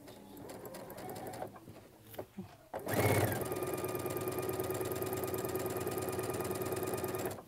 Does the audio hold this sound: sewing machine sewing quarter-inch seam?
yes